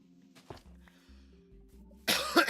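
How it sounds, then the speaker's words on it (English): A single person gives one loud, harsh cough close up after a stretch of quiet, low background humming and game-like tones. "the coughs have been even worse"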